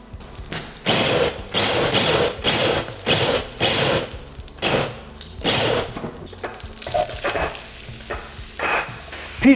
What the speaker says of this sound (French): On commence dans un premier temps par faire fondre du beurre et par faire revenir nos champignons hachés.